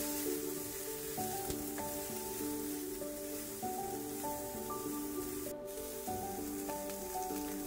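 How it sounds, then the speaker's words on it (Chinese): Onions frying in a pan with a little ginger for a homemade sukiyaki sauce, a steady close sizzle under gentle background music throughout. "我就先来炒洋葱咯"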